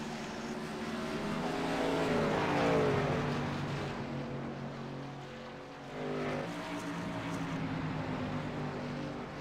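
Pace car and race trucks circle the oval at Daytona during a truck series race, a steady, loud engine drone with layered pitch swells that rises and falls as the vehicles pass.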